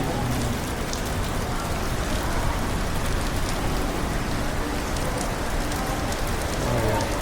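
Rain falls steadily outdoors, a dense, even hiss of drops on surfaces that stays constant and fairly close from start to finish.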